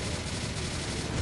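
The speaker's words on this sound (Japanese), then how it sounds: "最後の爆発どんなぐらい出るか" Explosions from a Monster Strike special attack burst out as a dense, continuous rattling blast, loud and brief, with no voices over it.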